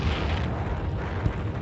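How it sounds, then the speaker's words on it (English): An antimatter bomb in a video game detonates inside a box canyon, a sustained deep rumbling roar that stays loud and broad throughout with a small thud near the end. "The antimatter bomb detonates inside of the Box Canyon."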